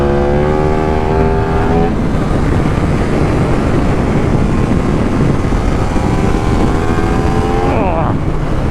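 A KTM 1390 Super Duke R motorcycle roars on a test circuit in Almeria, loud and close, its engine note climbing, dropping at a gear change, then settling into a harsh sustained drone before rising again.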